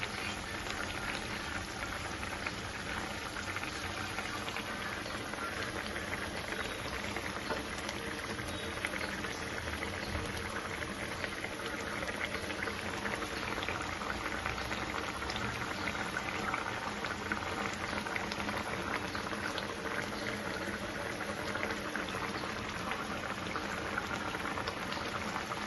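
Lentil-paste dumplings simmer in a pot of boiling water for a ridge gourd dish, producing a faint, steady bubbling hiss that runs evenly throughout without speech.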